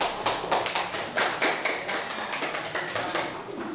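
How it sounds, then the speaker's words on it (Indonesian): A classroom of pupils claps in a dense, steady burst of applause, close and lively, lasting a few seconds without voices. "Tepuk tangan."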